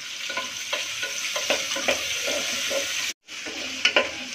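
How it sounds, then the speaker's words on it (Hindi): Chopped vegetables including carrots frying in a pan for masala veg khichdi, a steady close sizzle broken by repeated stirring scrapes, with a brief silent gap near the end and then a couple of sharper clatters. "ये सारे सब्जी को हम फ्राई करेंगे।"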